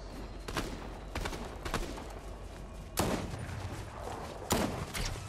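Bursts of gunfire in the Fortnite video game, several sharp volleys spread across the clip against a steady background of game noise, with no talk.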